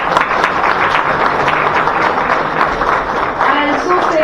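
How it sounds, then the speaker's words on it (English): An audience at a national moot court competition held at a law college applauds the two finalist teams, a dense, steady clapping with some voices mixed in that carries on without a break. "Give a huge round of applause for the two finalist teams, Team D and Team P."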